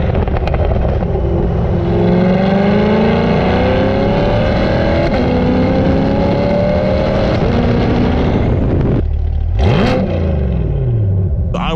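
Chevrolet C8 Corvette fitted with LTH headers driving, its V8 exhaust loud and close, rising through revs in a long pull, then a brief lift and a sharp rev spike near the end.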